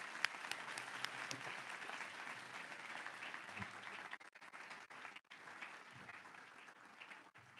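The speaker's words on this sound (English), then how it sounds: "bring your hands together for a massive round of applause for" An audience at a spiritual retreat session applauds, a dense, continuous patter of many hands that stays steady and fairly distant, thinning slightly with brief dips toward the end.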